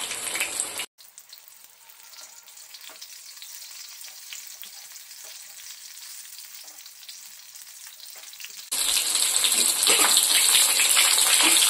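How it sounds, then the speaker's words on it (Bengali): Banana flower pieces fry in oil for a Bengali mochar kalia. A soft, steady sizzle with faint bubbling goes on for several seconds, then swells abruptly into a loud, close hiss near the end. "আমি এবার বাকিগুলো এভাবে ভেজে নিচ্ছি।"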